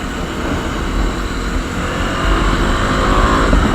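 A Bajaj Dominar 250 motorcycle on a group ride gives a continuous, loud engine drone mixed with wind rush, with the revs building toward the end.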